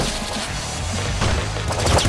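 Gunfire in a twin-stick shooter video game plays as a dense, continuous barrage of crashing, booming shots at steady high loudness, with heavier impacts toward the end and no talk.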